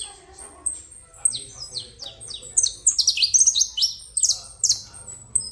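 A saffron finch (canário-da-terra) sings from a new cage in a series of bright, rapid chirps and trills that build into dense bursts, close and clear against a faint low background.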